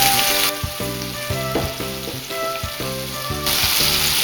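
White wine poured into a hot pan for tagliatelle al pomodoro sizzles steadily and loudly, a crackling fry that flares and settles over a few seconds with a rhythmic tonal pattern in the background.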